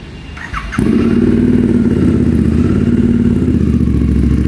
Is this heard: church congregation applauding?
no